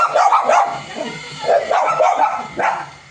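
Small puppies give short, high yips and barks in quick close bursts, with a faint whimpering quality.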